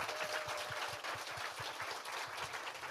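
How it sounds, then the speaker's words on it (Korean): Studio audience applause on a Korean talk show, a faint, steady patter of many hands clapping together without any voices over it. "박수 한번 좀 부탁드리겠습니다"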